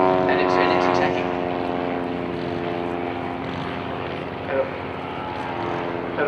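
A World War I Fokker fighter's propeller engine drones steadily overhead with a rich harmonic buzz. It stays moderately loud and constant at a distance, with faint talk in the background.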